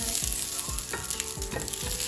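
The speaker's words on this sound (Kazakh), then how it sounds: "кішкене ғана сұйық май құйып, екі жағын осылайша араластырып қуырып алсаңыздар болады" Homemade chicken sausages fry in a little oil in a pan, a continuous close sizzle broken by several soft scraping stirs as they are turned.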